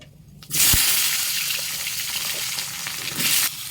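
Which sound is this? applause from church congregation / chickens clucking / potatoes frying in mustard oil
potatoes frying in mustard oil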